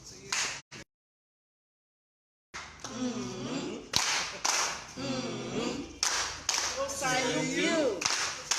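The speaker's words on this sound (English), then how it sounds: "So let's give them the love cheer." A group in Nigeria's Edo State gives a rhythmic clapping cheer after a brief silence, with bursts of sharp claps mixed with loud chanting voices close by.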